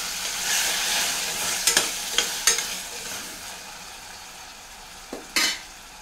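Tomatoes and three split green chilies fry in a pan under a steady sizzle, with a few scraping stirring strokes and spatula knocks scattered across it.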